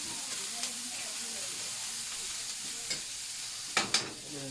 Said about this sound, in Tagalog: Tunagan natin ang luya.